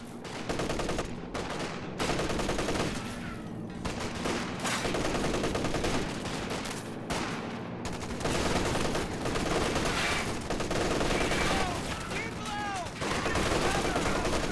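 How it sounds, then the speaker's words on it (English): MG34 machine gun fire in a Company of Heroes 2 match, loud sustained bursts of automatic gunfire layered with other weapons and battle noise, continuous throughout with brief gaps. "about to pop the MG34 here."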